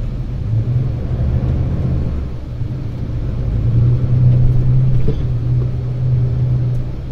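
A new truck pulls away from a toll barrier, a loud low engine rumble building steadily as it gains speed, heard from inside the cab with road noise underneath.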